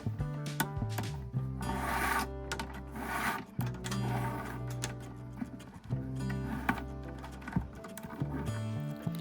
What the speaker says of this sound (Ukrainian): беремо наступну лозу, відраховуємо одну-дві стійки і під третю знову ж таки заводимо